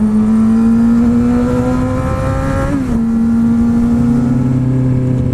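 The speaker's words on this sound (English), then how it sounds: "Another Corvette." A Corvette sports car passes nearby, a loud sustained engine drone whose pitch holds steady then dips slightly as it goes by, filling the scene without talk.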